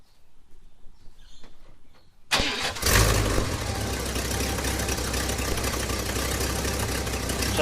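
An old truck engine with no exhaust system cranks and catches after a quiet lead-in, then settles into a loud, rough, steady idle that fills the rest of the clip; no talk.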